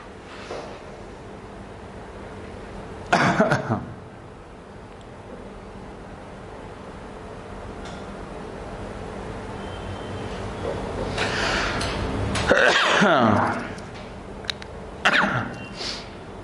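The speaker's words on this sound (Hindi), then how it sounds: "अरे खांसी" A few scattered coughs, one near the start and a louder cluster later, over a steady low background hum.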